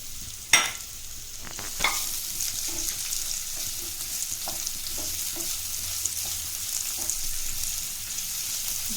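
Chopped onions and curry leaves sizzle in hot oil in a pan for soya chunks fry, with a steady crackling hiss and scattered spatula clacks and scrapes, two sharper knocks near the start, close up with no talk.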